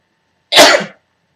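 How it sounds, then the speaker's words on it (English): A single sharp sneeze, close and loud, bursting out after a moment of silence and fading quickly. "I'm going to sneeze"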